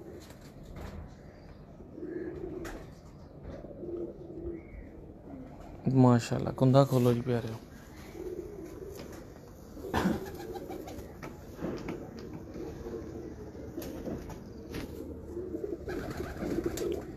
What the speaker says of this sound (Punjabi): ਅਸਲ ਡੱਬ ਵਾਲੇ ਸਲੇਟੀ ਡੱਬ ਵਾਲੇ ਕਬੂਤਰ ਨੇ ਆ